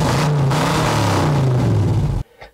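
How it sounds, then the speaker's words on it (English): A car engine with dual exhaust revs loudly with a deep, throaty exhaust rumble, holding a steady roar before cutting off abruptly. "I might throw in just a real quick little clip of the exhaust for you in here"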